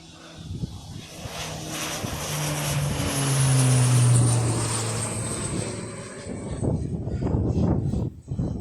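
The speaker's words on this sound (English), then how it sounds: "That's not a private jet, that's actually a propeller plane." A propeller plane drones overhead, its engine swelling as it approaches and passes close by, then fading away, loud and steady with no talk.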